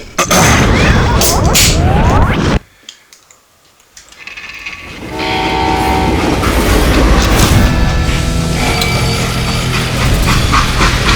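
A freight train in the video game Call of Juarez: Gunslinger rumbles and clatters loudly, drops to near silence briefly, then resumes a steady rolling roar with metallic screeching tones.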